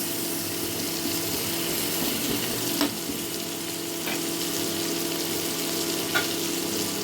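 Potato pieces fry in a pan with a continuous bright sizzle, close and steady, with a few faint clinks of a spatula, while hilsa fish head and pumpkin are being cooked.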